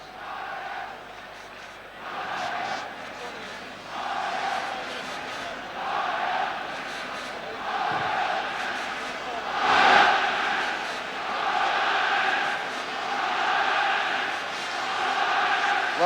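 Stadium crowd of 65,000 at Amsterdam's 1928 Olympic Stadium awaiting the teams for Ajax vs Nottingham Forest, a European Cup semi-final: a steady, distant roar with rhythmic rising chants and swells, loudest near the middle.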